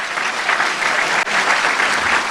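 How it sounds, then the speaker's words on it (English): An audience at a graduation ceremony applauds, a dense, steady clapping that carries loud and continuous throughout, with no voices over it. "Can we all give her a round of applause?"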